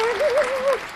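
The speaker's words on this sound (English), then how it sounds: "let me go ahead and bring on the round of applause for Inga Nicole" Conference audience breaks into applause to welcome Inga Nicole at a book launch event, dense clapping with a single wavering voice whooping or singing over it in a brief burst.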